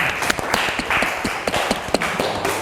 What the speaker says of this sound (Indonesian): kasih aplaus untuk Haira ya